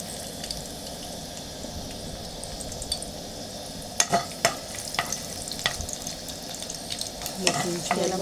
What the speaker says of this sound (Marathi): तेलामध्ये लसूण टाकत आहे ठेचलेला.